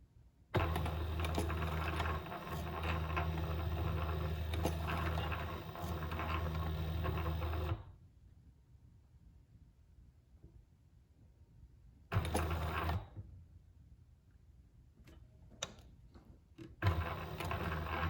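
A home sewing machine runs in a loud steady whir for several seconds while stitching in reverse, stops, then starts again in shorter bursts separated by quiet pauses with light clicks.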